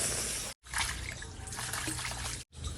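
Water runs steadily from a household tap as a mother fills containers, a close, constant splashing rush broken by two brief gaps.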